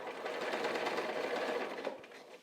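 A sewing machine stitches quilt binding a quarter inch in, running at a steady, continuous buzz with a brief pause and restart near the end.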